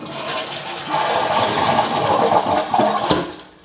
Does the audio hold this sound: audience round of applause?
no